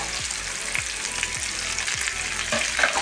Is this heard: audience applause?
no